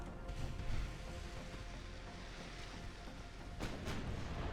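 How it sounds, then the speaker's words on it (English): Torpedo hits on a warship in the naval strategy game Ultimate Admiral: Dreadnoughts, heard as a continuous low rumbling boom with a sharper burst near the end, steady and moderately loud throughout. "Ooh, torpedo hits."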